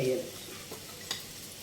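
Prawns drop into a pan of fried broad beans, starting with a brief hiss that settles into a soft, low sizzle, broken by a couple of quick stirring scrapes.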